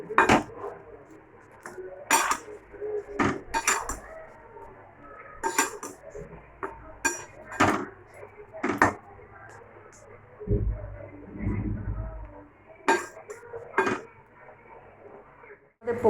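Potatoes in a pan are stirred repeatedly over the flame, giving irregular metallic clanks and scrapes of a utensil against the pan, loud and close, with quieter stretches between the strokes.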